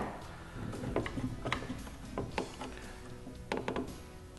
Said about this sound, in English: now you're clamping your piece around the corner against this jaw here.